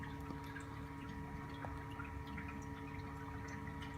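Water flows continuously through a reef aquarium with a soft, steady gurgle and faint bubbling, a quiet hum running underneath throughout.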